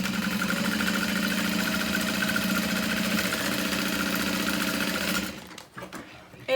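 A sewing machine sewing the side panels of a handbag, a steady close mechanical hum with fast rhythmic needle vibration for about five seconds before it stops, followed by handling noises and faint talk.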